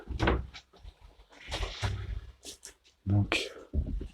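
Someone opens a door inside an abandoned leisure park building, with a series of uneven clunks, scrapes and creaks, some sharp and loud, some soft, and a voice speaking briefly between them.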